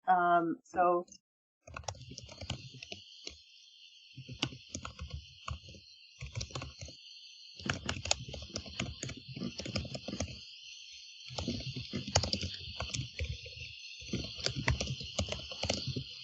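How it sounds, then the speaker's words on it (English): Typing on a computer keyboard comes in bursts of quick clicks under a steady high hum, with pauses between runs, heard close at moderate level. "So I am typing and I'm talking at the same time."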